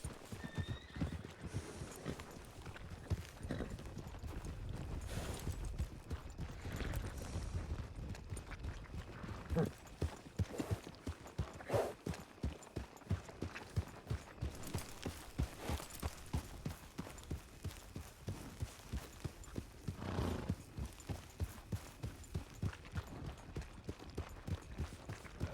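Horses' hooves clip-clop steadily in an audio drama, with a horse whinnying early on and people talking over the rhythmic hoofbeats.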